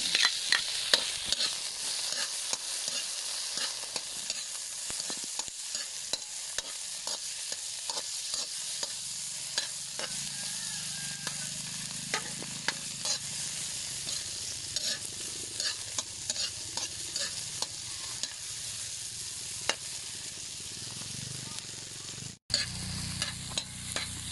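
Onion and garlic sautéing in a pan for a provincial breakfast, a continuous sizzle with frequent scraping stir strokes and utensil clicks, steady and close for the whole stretch.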